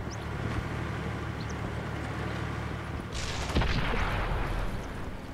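Artillery shell fire in World of Tanks console gameplay: one heavy boom bursts out midway over a rumbling engine and ambient battle noise, fairly distant.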